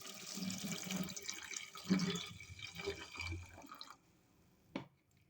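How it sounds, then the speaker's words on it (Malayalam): Water runs into a pan holding tea leaves and fenugreek seeds for a homemade hair toner, a close splashing pour lasting several seconds before stopping, followed by a single soft knock. "ഇതിന് വെള്ളം ചേർത്ത് കൊടുക്കുക"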